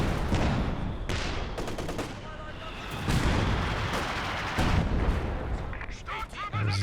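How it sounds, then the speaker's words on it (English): A heavy artillery barrage with howitzer and mortar fire from Company of Heroes 2 thunders in repeated booming volleys and crackling impacts, while a commentator talks over the battle. "There's this barrage there."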